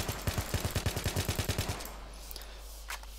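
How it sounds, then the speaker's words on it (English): A fully automatic burst from an assault rifle in Battlefield 3 fires about fifteen rapid, evenly spaced shots, then cuts to near silence with faint clicks afterward. "to prove that we have a decent rounds per minute, I'll just spam the trigger"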